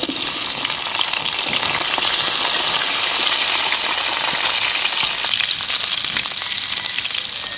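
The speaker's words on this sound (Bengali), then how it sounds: "তেলটা মাছ ভাজা তো এরকম একটু কালচা হয়ে গেছে, তাও তেলে ভেজে নেব" Fish frying in darkened, reused oil in a pan, a steady dense sizzle with fine crackling spatters that runs continuously at close range, slightly settling toward the end, with no voices.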